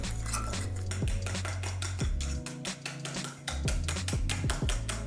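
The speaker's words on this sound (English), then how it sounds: "Add your finely blended oats and mix it all together." Oat pancake batter with finely blended oats being mixed in a bowl, a rapid, steady run of close, loud utensil taps and clatter against the bowl, briefly easing midway before resuming, with no one speaking.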